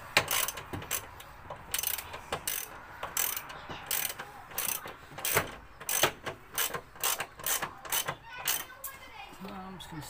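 A ratchet clicks in short bursts, tightening the bolt on the negative battery terminal of a Ford BA/BF during a battery relocation, its sharp irregular strokes close by with faint voices in the background.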